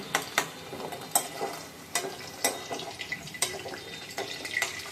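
Potatoes for a cabbage-greens dish fry in a pan, a low sizzle broken by frequent sharp clacks and scrapes of stirring, close and moderately loud with no talking.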